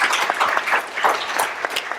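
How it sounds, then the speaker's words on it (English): A conference audience at a Muslim consumer conference session applauds, a brief, fairly loud burst of many hands clapping in uneven quick bursts, with no talking over it. "give him a round of applause, please."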